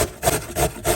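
Peeled beetroot being grated on a hand grater, with repeated rasping strokes in a steady rhythm, about three close, fairly loud passes with short pauses between them.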